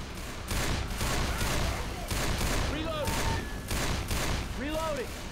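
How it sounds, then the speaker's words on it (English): An SMG fires in Left 4 Dead 2: rapid automatic bursts repeat in loud, close volleys separated by short pauses, with brief voices in the game shouting over the shooting. "Using the SMG."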